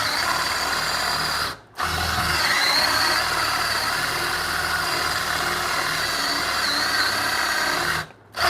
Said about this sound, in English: with the Forstner bit here, there's already Forstner bit cut through the other side